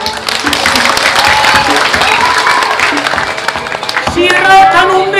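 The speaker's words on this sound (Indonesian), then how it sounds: "Tepuk tangan." Applause and clapping from a theatre audience at a Balinese drama gong performance, loud and continuous under overlapping voices, with a brief lull before the clapping swells again near the end.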